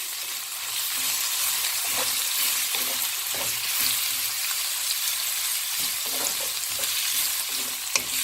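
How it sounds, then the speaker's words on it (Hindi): Chopped medium onions fry in hot oil for bhindi masala, giving a steady, close sizzle with occasional stirring scrapes throughout, no voices. "अब हमने इसी ऑयल में ये जो हमारे मीडियम अनियन काट के रखे थे ये डाल देंगे। इनको हल्का सा फ्राई करेंगे।"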